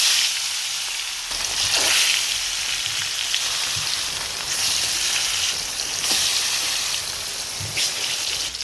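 Rohu fish frying in hot oil in a pan, a steady broadband sizzle with crackling surges that rise and fade every few seconds, close and continuous with no talk.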